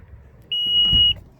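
A single steady electronic beep from a 2020 Honda Passport Elite sounds for about half a second, a clear high tone over quiet background noise.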